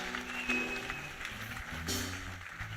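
A short burst of applause from a church congregation, a patter of claps heard fairly close, fading after a few seconds.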